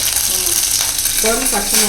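Mustard seeds and curry leaves sizzling in hot oil with crackling bursts throughout, steady and fairly loud; brief faint voices come in toward the end.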